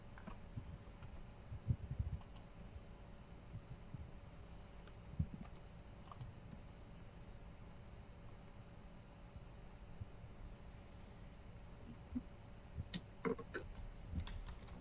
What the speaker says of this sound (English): to see if he is in fact still typing